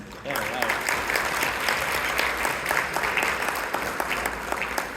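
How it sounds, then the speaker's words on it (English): Audience applause at the Human Development Foundation of North America annual dinner, a steady wash of many hands clapping that starts abruptly and holds at an even level, with a voice briefly audible at the start. "Please give yourselves a big round of applause for your efforts."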